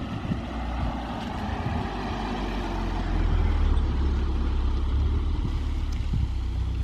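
A Toyota Supra sports car drives up and arrives, its engine a low steady rumble that swells slightly as it nears, with some wind buffeting on the microphone.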